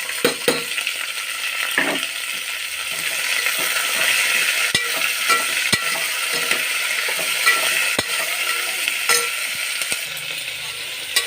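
Ivy gourd and onion pieces frying with curry leaves in a pan, a bright continuous sizzle broken by frequent spatula scrapes and taps, close and steady, with no speech.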